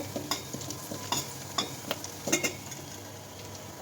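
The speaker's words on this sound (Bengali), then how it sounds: "এখানে অনেকগুলো পেঁয়াজ রসুন কুচি দিয়ে দিলাম। তেলের ভিতরে।" Chopped onion and garlic sizzle in hot oil for a dal tempering, a low steady frying hiss broken by several sharp clinks and scrapes of a spoon stirring against the pan, close and fairly quiet, with no voices.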